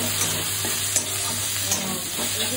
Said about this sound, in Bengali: তো এটা ফ্রাই করতে হবে করে একটু ফ্রাইড ফ্লেভার আসবে